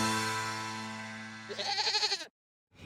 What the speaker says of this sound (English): It's a 5-legged goat.